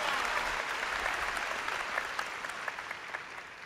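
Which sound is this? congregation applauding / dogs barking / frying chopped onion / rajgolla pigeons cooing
congregation applauding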